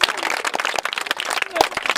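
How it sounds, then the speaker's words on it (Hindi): Hand clapping from a group at a village wedding scene in a Maithili comedy sketch, fairly dense and close, mixed with overlapping voices and chatter throughout. "ताली बजाओ"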